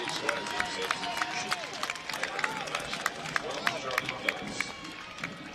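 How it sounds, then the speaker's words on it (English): A stadium crowd at a Phoenix Rising FC versus New Mexico United football match claps steadily for substitute Charlie Dennis, a scattered patter of applause beneath a commentator's voice. "Some applause there for Charlie Dennis as well"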